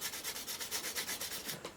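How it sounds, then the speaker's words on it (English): A scythe blade edge polished with a honing block, a rhythmic series of quick raspy rubbing strokes, about a dozen in steady succession, close and fairly quiet. "when you polish the edge with one of these blocks"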